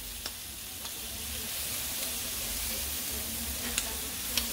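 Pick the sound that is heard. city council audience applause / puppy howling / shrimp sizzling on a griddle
shrimp sizzling on a griddle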